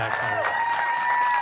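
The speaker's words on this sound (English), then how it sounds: "Big round of applause" Applause from a small audience at a private radio-station concert after a song, a steady wash of clapping with a sustained musical tone ringing through it and some voice mixed in.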